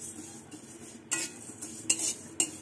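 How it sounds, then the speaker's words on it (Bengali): Mung dal dry-frying in a pan, with a faint low background broken by three or four short, sharp scrapes and clinks of a spoon stirring against the metal. "দেখুন ডাল ভাজতে ভাজতে গন্ধ বেরিয়ে গেছে ডালের"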